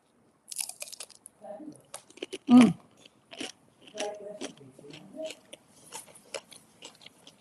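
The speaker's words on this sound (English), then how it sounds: "I'm going to have some of my terrine on a bit of crunchy toast, so I'm going to be very crunchy" Crunchy toast topped with terrine is bitten into close to the mic, giving a sharp, loud crunch followed by a run of smaller crisp chewing crunches in an otherwise quiet room.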